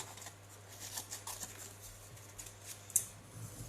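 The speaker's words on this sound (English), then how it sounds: "Let me cut out this wee guy." Scissors cutting out paper at a craft table, giving soft, irregular snips and rustles spread through the stretch, faint over a steady low background hum, with one sharper snip near the end.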